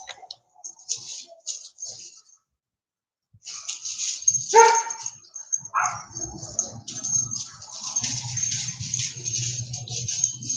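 Pet dogs in a home give a few sharp barks and yips, followed by whimpering and snuffling, fairly close, with quiet gaps and a low rumbling underneath.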